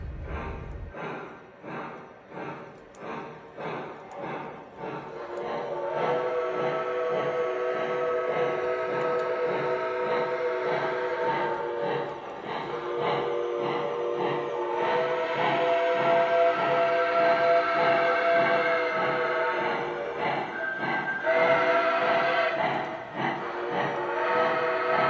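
A Lionel Legacy Mohawk 4-8-2 model steam locomotive pulls away, its rhythmic chuffing speeding up steadily while sustained whistle tones ring over the running-gear noise, close and fairly loud without any talk.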